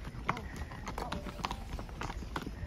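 A ridden horse's hooves clip-clop in a steady walking rhythm on a hard surface, faint and mid-distance, with a rider's voice talking softly over them.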